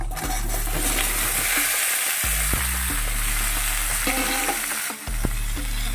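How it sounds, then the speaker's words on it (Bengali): Chopped mixed vegetables dropped into hot spiced oil for a katla fish-head curry, sizzling loudly and continuously up close, with a low hum underneath and a few stirring clatters. "এবার এটাকে বেশ ভালো করে কষিয়ে নেব আগে একটু ভাজা ভাজা হয়ে যাক"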